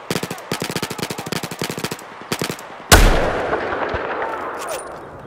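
Rapid automatic gunfire in the Battlefield 4 video game comes in several short bursts of crisp close shots, then one loud sharp report rings out and trails off into a fading echo.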